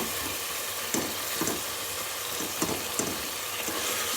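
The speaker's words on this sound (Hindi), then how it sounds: "अब इसकी अच्छे तरीके से भुनाई करेंगे। तकरीबन 5 मिनट की भुनाई होगी इसकी।" Beef mince for keema fries in a pan with a steady broad sizzle while a utensil stirs through it, giving several soft scraping knocks over the continuous hiss, fairly quiet and close.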